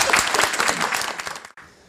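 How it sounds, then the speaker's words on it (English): Audience applause at an anniversary symposium, a dense burst of many hands clapping that swells briefly and then cuts off abruptly, leaving a faint room tail. "Could you give her, a big round of applause?"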